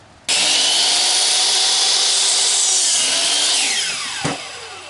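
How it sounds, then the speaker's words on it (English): A bandsaw cuts through wood in one steady pass, starting abruptly, holding a loud high whine throughout and tailing off with a brief knock as the cut finishes. "And then we'll make this cut with the bandsaw."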